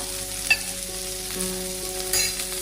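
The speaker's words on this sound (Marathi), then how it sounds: "तेल टाकल्यानंतर अगदी 2 मिनिटं आपण ह्या मिरच्या परतून घ्यायच्या" Green chillies sautéing in a few spoonfuls of oil, a continuous close sizzle with light stirring scrapes and a steady hum in the background.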